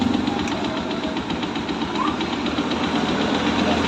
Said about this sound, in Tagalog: kung may maririnig kayo na ayan, parang tumataguktok. So dito po yan sa kanyang clutch.